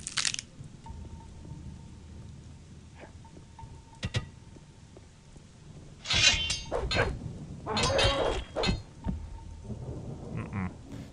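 Thunder crashes from a big lightning spell cast in the video game G2NK: Odyseja, with loud bursts around the middle and later part over a steady faint ambient background.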